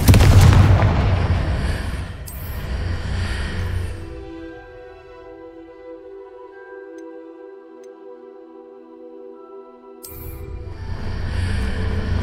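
A Confringo fire spell explodes in the Hogwarts Legacy video game: loud booming blasts with a rumbling tail, then a quiet stretch of sustained musical tones, and another heavy burst near the end.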